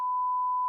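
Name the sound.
1,000 hertz test tone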